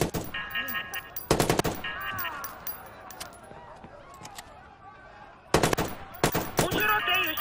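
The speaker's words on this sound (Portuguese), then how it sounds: "Socorro, tem pessoas atirando, venham depressa." Automatic gunfire from the video game Watch Dogs comes in two loud, dense bursts of rapid shots separated by a quieter stretch, with other in-game sounds and voices in between.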